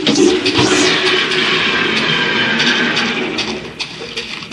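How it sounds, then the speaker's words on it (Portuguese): A toilet flushing in a bathroom, a loud, steady rushing and gurgling wash of water close by that runs throughout. "Uma pessoa dando descarga no banheiro."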